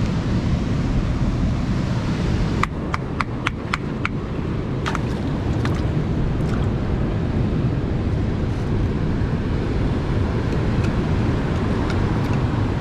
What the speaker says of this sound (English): the waves are absolutely relentless right now